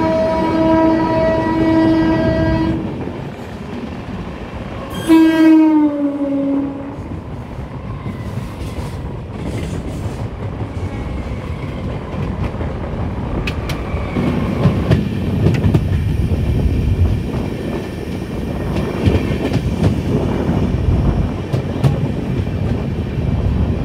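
A passenger train on the Kolkata to Dibrugarh route, with a loud horn blast near the start, then a continuous rumble and rhythmic clatter of carriages on the rails, close and steady.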